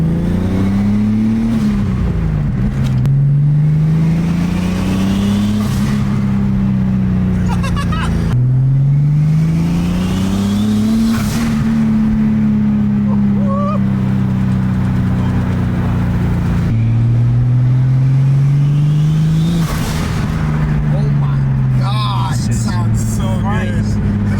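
A rebuilt forged turbocharged BMW M50 engine in an E30 revs up and down repeatedly in long pulls, with blow-off valve whooshing and hissing bursts as the revs drop, loud and close, with talking over it.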